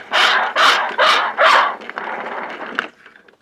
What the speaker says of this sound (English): This next one is a dog.